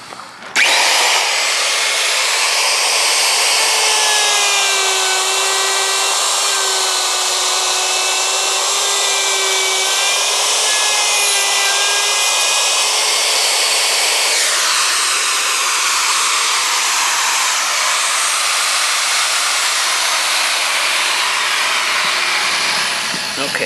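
Wood router spinning above 8,000 RPM while cutting a hinge recess, a loud, steady, high whine with wavering cutting tones through the middle, then a lower hum before the motor winds down, close and unbroken.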